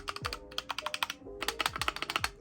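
Typing on a custom modded mechanical keyboard, close and crisp, with quick runs of clacky keystrokes, a short pause, then another burst of rapid keypresses.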